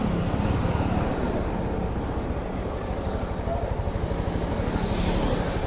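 A Yamaha MT-15 motorcycle is ridden, its engine giving a steady pulsing low drone under rushing wind noise, close and constant throughout.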